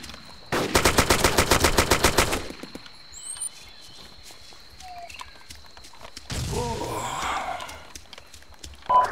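A rapid burst of automatic rifle fire rattles for about two seconds in the military shooter ArmA 2, followed by quieter ambient game sounds, faint movement and a second rush of noise.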